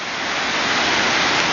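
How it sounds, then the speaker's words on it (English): Dip Falls in the Dip Falls Nature Reserve, a Tasmanian forest waterfall flowing at an angle, roars as a loud, steady broadband wash of gushing water, close and continuous with no other sounds. "Dip falls, waterfall, in the Dip Falls Nature Reserve in the middle of a forest"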